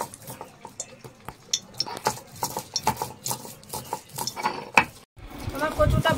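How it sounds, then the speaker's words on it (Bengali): Fried taro being ground into a paste makes close, uneven scraping and soft clinks in an irregular rhythm, ending in a louder rough rumble. "তো আমি এখন কচুটা বেটে নিচ্ছি"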